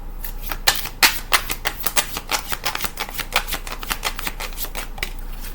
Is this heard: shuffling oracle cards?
yes